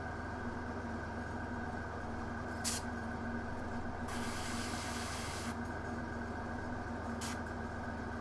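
Airbrush spraying paint while detailing the underside of a Knight Armiger model, a steady hiss running throughout with a few short brighter bursts of spray, close and alone.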